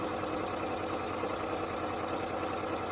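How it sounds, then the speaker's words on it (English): Sewing machine stitching chevron quilt pieces runs fast and continuously, giving a close, even, rapid mechanical whir with no talk. "So I am almost done, and I'm just going to sew all the way off."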